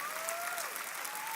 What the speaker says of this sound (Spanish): Démosle ese aplauso fuerte al Señor